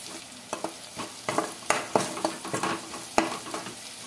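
A spoon scrapes and stirs turmeric and coriander powder into sizzling onion curry in a pan, with quick uneven strokes over a soft frying hiss, close up.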